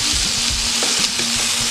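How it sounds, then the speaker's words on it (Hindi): Chicken and onions for chicken do pyaza fry in garam masala and turmeric, a loud, even sizzle with soft rhythmic stirring thumps underneath. "1 मिनट और फ्राई करेंगे"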